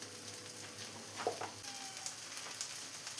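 Coriander, chilli, Kashmiri chilli, garam masala and chicken masala powders heat and get stirred in a pan for a chicken and tapioca dish, a faint steady sizzle with a few soft scrapes of the spoon.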